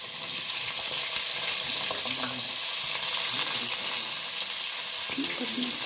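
Thick-cut onion frying in a pan for chicken masala gives off a loud, steady sizzle that fills the whole stretch, with occasional soft stirring knocks and no voices.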